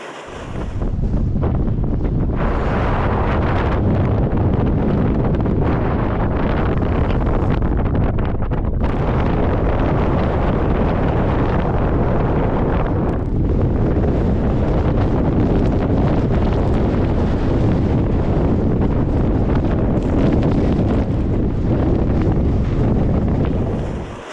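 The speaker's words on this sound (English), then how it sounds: "I'm going to close the sunroof just to cut down on some of the wind noise" Strong, constant desert wind in the Mojave during a sandstorm, roaring and buffeting the microphone, a dense low rumble with gusty surges throughout and no voices.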